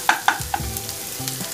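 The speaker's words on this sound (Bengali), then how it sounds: "এটাকে খুব ভালো করে এবার আমি ভেজে নিচ্ছি।" Onion and garlic frying in a pan while being stirred, a close sizzle under scraping strokes of a spatula, with a few sharp clinks at the start, no voices.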